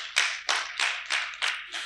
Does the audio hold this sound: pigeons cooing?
no